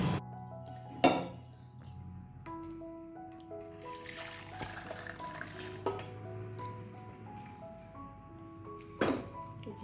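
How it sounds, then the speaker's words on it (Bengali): Metal clanks of a lid set onto a pot of simmering kalai dal with bori: sharp knocks near the start and end, soft clinks and bubbling between, close and moderately quiet. "এখন আমি দুই তিন মিনিট ঢেকে দেব"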